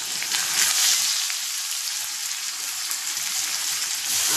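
Chopped tomato sizzles in a hot pan with onion as a pasta sauce starts, a soft, steady crackling hiss with faint spatters throughout, no voices.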